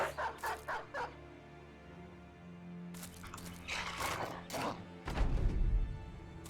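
Dogs that look like pit bulls or Staffordshire Bull Terriers in the Battle Brothers video game bark and yip in short repeated bursts, loud and close, mixed with game sound effects.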